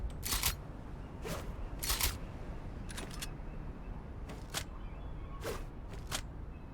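A series of sharp, spaced mechanical clicks and clacks of a shotgun being pulled out in Fortnite, over a low steady background hum.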